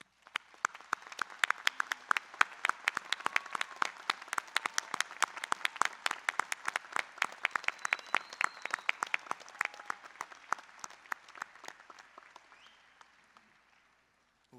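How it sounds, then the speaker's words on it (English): Commencement audience at a university spring graduation ceremony claps for standing graduates, a sustained crisp wash of many hands that builds, holds steady for over ten seconds, then tapers off. "Join me in applauding our standing graduates."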